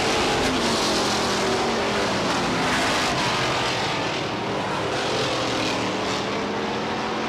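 Race cars at Star Speedway roar down the back straightaway nose to tail, a dense, loud, continuous engine howl with no talk over it.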